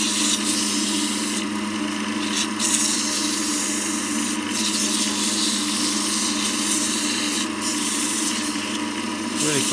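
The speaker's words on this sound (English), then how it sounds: "And we just sand it out." Steady sanding on a wooden lidded box, a continuous dense rasping hiss with slight rhythmic strokes, close and loud throughout with no pauses.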